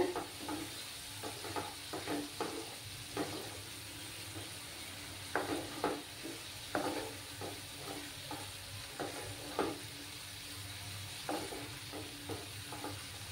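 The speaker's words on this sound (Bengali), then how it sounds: "দিয়ে কিছুক্ষণ ভালো করে মশলাটাকে কষিয়ে নেব, ততক্ষণে টমেটোটাও সফট হয়ে যাবে।" Spice paste with tomato and slit green chilies fries in a pan, giving a steady close sizzle broken by repeated scraping stirs at an uneven rhythm, with no voices.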